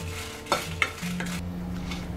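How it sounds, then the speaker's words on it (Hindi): Six or seven dried red chillies are roasted in a pan for a sweet corn curry. A spatula scrapes and clinks against the metal a few times over a soft continuous sizzle, close by and with no speech. "लाल मिर्च को हम थोड़ी देर भुनेंगे।"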